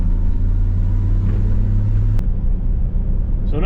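A 1958 Chevrolet Delray with a three-speed column shift pulls away in second gear, its engine giving a steady low rumble. A short sharp click cuts through midway and the drone carries on to the end.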